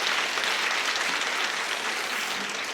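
A church congregation gives sustained, even applause for the decoration team during an Easter Sunday service, a dense wash of clapping heard from the room without pause.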